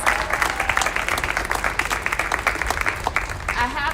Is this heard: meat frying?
no